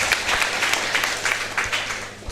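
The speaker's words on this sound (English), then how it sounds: "clap for yourselves." Audience applause at a community meeting on a land dispute: a steady, dense patter of many hands clapping for a couple of seconds, fairly close and even in loudness.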